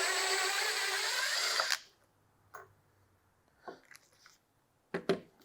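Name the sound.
power drill driving screws into floating shelf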